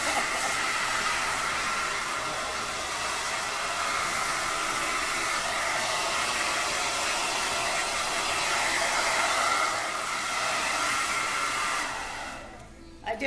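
A hair dryer blows steadily and loudly while styling a man's scissor haircut, a continuous close whooshing hiss that cuts off near the end.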